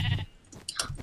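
A sheep in the Minecraft video game gives one short, close bleat that lasts about a second.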